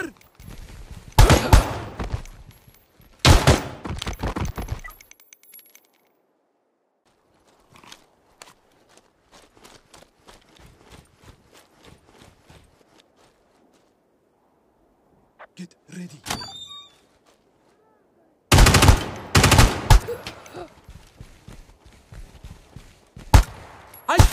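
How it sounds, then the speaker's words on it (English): Video game gunfire in Ground Branch rings out in loud bursts of close shots, with a long quieter stretch of faint shuffling between them before a final heavy volley. "I'm under fire!"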